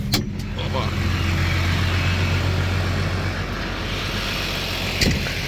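A New Holland T6050 tractor idles steadily in a field beside a Kverneland plough, a loud, even low engine rumble running throughout with a couple of brief knocks near the end.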